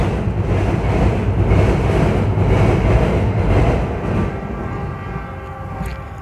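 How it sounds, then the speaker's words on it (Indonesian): A train rumbles past close by, a loud continuous roar that slowly fades away near the end. "Bentar-bentar ada kereta dulu. Ada kereta di sana."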